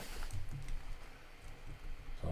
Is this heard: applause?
no